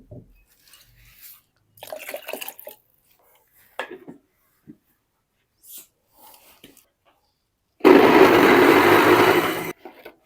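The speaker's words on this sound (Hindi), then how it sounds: "अब हम इसमें ऐड करेंगे एक नॉर्मल टेम्परेचर वाला पानी।" Room-temperature water poured into cream while making homemade ghee, a dense splashing rush lasting about two seconds near the end, after quiet handling noises and a few soft knocks.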